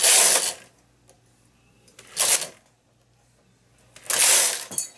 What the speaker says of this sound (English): I begin reverse shaping, which is bringing my needles back into work to do the other side